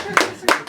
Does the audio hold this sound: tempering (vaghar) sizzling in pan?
no